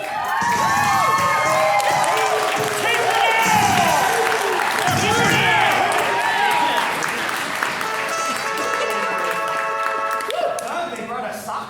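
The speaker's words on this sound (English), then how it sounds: "They brought a soccer crowd." A live improv comedy audience at a ComedySportz Twin Cities showcase applauds and cheers loudly and steadily, with whoops and shouts rising over dense clapping in a full room.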